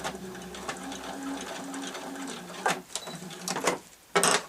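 A sewing machine stitches a zippered, lined tote bag in a steady whirring run, then stops and starts in a few short bursts, close by with no talking.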